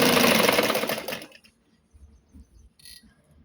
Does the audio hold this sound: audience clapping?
no